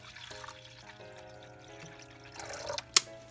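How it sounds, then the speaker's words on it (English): Bottled water poured into a dish in a tree frog terrarium, a soft trickling, dribbling pour at low level with faint drips and a sharp splash near the end, no voices. "Now fill it up with some bottled water."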